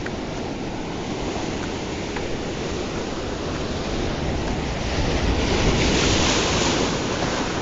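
Big ocean waves surge and crash along a shore where fish are being caught, a continuous loud roar of surf and spray mixed with wind buffeting the microphone, swelling louder toward the end.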